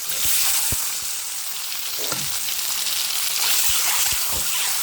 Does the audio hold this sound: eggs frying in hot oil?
yes